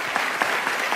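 A church congregation breaks into steady applause, a brief dense wash of many hands clapping at moderate loudness during a sermon.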